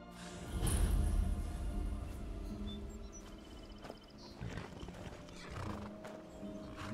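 Horses pulling a wooden cart in Skyrim, with clip-clopping hooves and a whinny over a busy, full game soundscape that swells and fades throughout.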